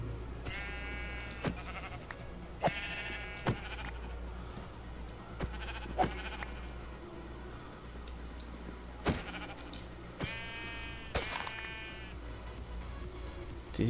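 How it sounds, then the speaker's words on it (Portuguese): Sheep bleat repeatedly in the video game Minecraft, several short, nasal calls spaced a few seconds apart over a quiet low hum, each bleat clear and fairly close with a few soft clicks between. "Nossa, olha o tanto de ovelha"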